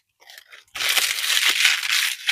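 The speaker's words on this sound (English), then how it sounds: "Then we crunch them" Crepe paper crunched up in the hands while shaping a giant paper rose: a brief soft rustle, then a loud close continuous crinkling crunch lasting about two seconds.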